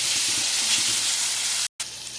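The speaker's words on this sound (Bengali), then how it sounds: "এখন রসুন দিলাম, যে এখন আমি বাটা মরিচ দিলাম" Garlic and chili paste sizzle loudly in a hot frying pan, a steady, close hiss that runs without a break except for a brief cut near the end. No one speaks.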